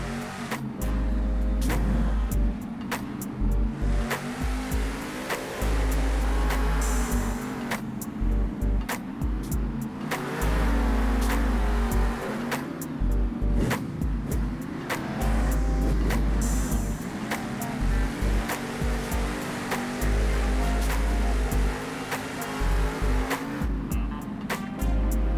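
Monster Jam monster trucks tear through a championship race in San Diego, their engines roaring loud and continuous with repeated revving surges and throttle bursts throughout.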